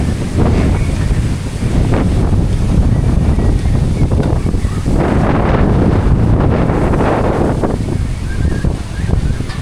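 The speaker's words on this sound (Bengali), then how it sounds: "এই যে এইরকমভাবে বাতাস করছে বর্তমানে।" Strong wind blows at a riverside char, a loud, roaring rush buffeting the microphone steadily throughout, with gusts surging and easing and no voices.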